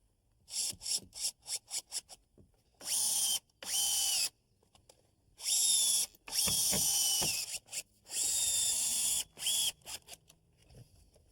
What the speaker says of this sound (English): Now I'm going to screw the leg into the cleat using a 4-inch deck screw.